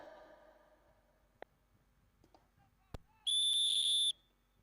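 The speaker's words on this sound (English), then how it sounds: "A long whistle, timekeeper." Umpire's whistle at a polo tournament in Port Harcourt, a single long, loud shrill blast held for under a second near the end, after a few faint thumps and a brief distant voice.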